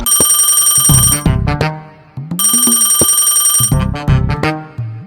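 A telephone ringtone plays loud and close, two long electronic trilling bursts separated by a short gap, over a repeating melodic tone line, with no talk.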